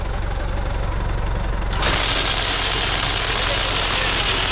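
The engine of a tractor carrying a Berti Ecosprint hydraulic sucker and weed remover starts up in a vineyard field. A steady idle jumps suddenly to a louder, fuller running roar that continues close by.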